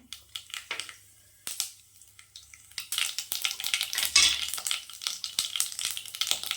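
Mustard seeds and urad dal sizzle in hot oil in a kadai, starting with sparse crackles and pops, then building into a dense, close, continuous crackling fry.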